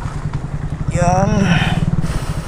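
A motorcycle engine runs with a steady low throbbing pulse, fairly close and continuous, while someone talks over it.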